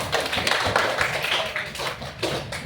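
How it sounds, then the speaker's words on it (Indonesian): Students in a classroom clap briefly for a classmate, a close, busy patter of hand claps with some chatter mixed in, lasting just a few seconds. "Tepuk tangan dulu buat Desi."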